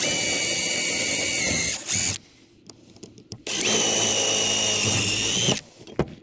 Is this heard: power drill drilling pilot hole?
yes